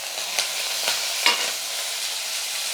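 Steady, loud sizzle of green chilies and curry leaves frying in hot oil, with a few sharp pops and crackles breaking through the continuous hiss.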